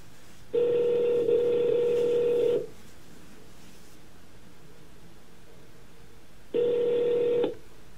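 Ringback tone of an outgoing telephone call: a steady, buzzing electronic tone sounds for about two seconds, pauses for several seconds of quiet line hiss, then rings again briefly. No one speaks.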